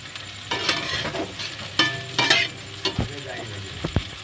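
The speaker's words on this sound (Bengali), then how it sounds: "চালটা আমি ভালো করে ভেজে নেব" Gobindobhog rice fries and sizzles in a pan, stirred with repeated scraping and clinks, a steady low hiss under the stirring at moderate loudness with no talk.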